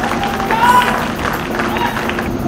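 An audience applauds the star cast at the launch of the TV show Mahakumbh, greeting Siddharth with a dense burst of clapping and crowd noise while a voice speaks over it.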